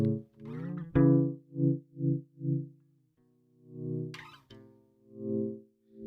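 Distorted electric guitar notes played one at a time, several sustained tones with gaps between, plus a short scratchy strum near the middle.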